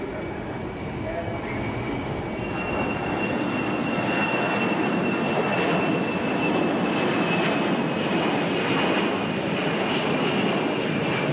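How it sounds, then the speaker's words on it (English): Twin-turbofan amphibian aircraft with booster engines at an airport air show, a loud, steady broadband jet roar with a faint whine on top, building slightly and holding throughout. "Twin turbofans mounted high above the sea spray, plus booster engines slightly below that, make this a surprisingly agile, multi-purpose amphibian."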